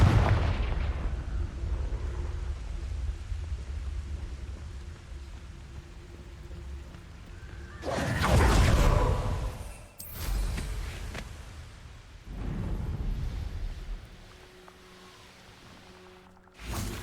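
Confringo blasting spells in Hogwarts Legacy set off heavy booming explosions in the game, one big blast after a low rumbling stretch and then several more bursts, each with a rolling crackling tail.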